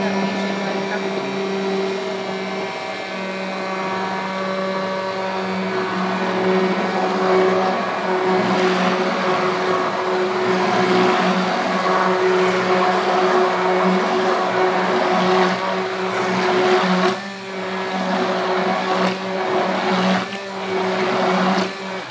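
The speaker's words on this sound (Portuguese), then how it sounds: "Agora eu vou bater com o mixer, vocês sabem que eu viro ele de lado pra poder bater melhor." A handheld electric mixer, tilted on its side, whirs steadily as it blends a baking soda soap mixture with Vanish White stain remover. The motor is loud, close and continuous, with no talk over it.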